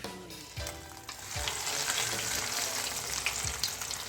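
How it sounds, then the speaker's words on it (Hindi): Potato patties deep fry in hot oil, a dense continuous sizzle that swells as the patties go in, with a few soft knocks and clatters from placing them near the start. "अब मैं क्या करूँगी कि एक एक पैटीज इसमें डीप फ्राई करूँगी"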